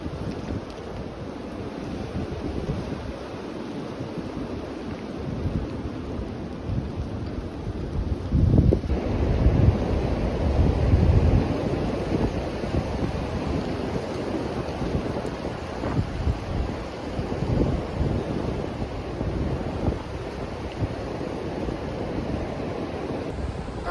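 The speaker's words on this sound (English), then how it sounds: "see how fast that wind's moving in clouds." High wind roaring across an Appalachian Trail ridge between Neel Gap and Hogpen Gap in Georgia, a constant heavy rush with buffeting gusts on the microphone, loud and unbroken with no voices.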